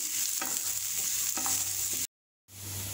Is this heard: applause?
no